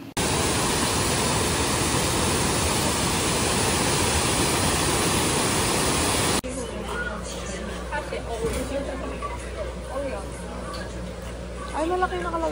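Roaring rush of the Shifen Waterfall in Taiwan, a dense, loud, steady wash of falling water for about six seconds, then dropping to a quieter background with faint voices and ambience.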